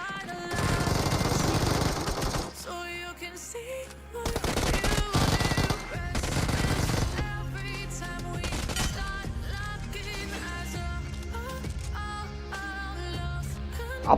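Rapid bursts of gunfire in the BGMI mobile game, loud automatic volleys and single shots clustered in bursts with brief pauses, under steady game music.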